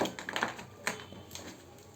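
A deck of playing cards is shuffled up and down by hand, giving a quick run of soft, close riffling clicks and taps over about two seconds.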